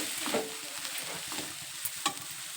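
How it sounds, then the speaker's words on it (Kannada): Leftover chapati pieces are stirred into a coriander tempering in a pan, giving soft scraping and tossing sounds over a faint sizzle, with a couple of sharper clinks of the spoon against the pan. "ಚಪಾತಿದು ಒಂದಿಷ್ಟು ಇದ್ರಾಗ ಮಿಕ್ಸ್ ಮಾಡ್ತೀನಿ"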